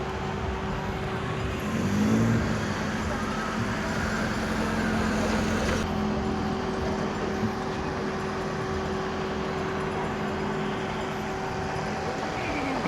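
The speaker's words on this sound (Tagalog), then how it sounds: "Dump truck na maliit, 4x4 na dump truck" A small Ironman 4x4 dump truck drives by outdoors, giving a steady engine rumble with a brief louder swell as it passes near, then a continuous road and motor drone. No one speaks.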